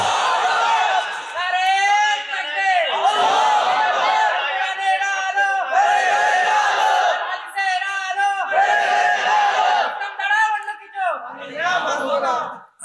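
A large crowd at a rally chants Allahu Akbar in loud, repeated unison waves in answer to a takbir call. Several bursts rise and fall across the stretch, with brief pauses between them.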